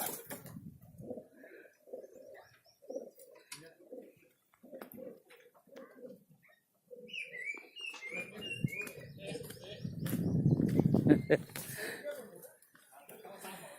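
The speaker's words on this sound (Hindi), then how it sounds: "ये बड़े बड़े कबूतर," Large pigeons coo softly nearby between stretches of someone talking, with rustling and a burst of low flapping or scuffling near the end.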